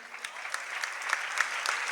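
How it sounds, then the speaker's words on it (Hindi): Applause from an audience at a gathering welcoming a Girnar pilgrimage procession in Indore, the clapping held at a steady, moderate level for two seconds, with no voices over it. "मनोज भाई के लिए बहुत ज़्यादा तालियां"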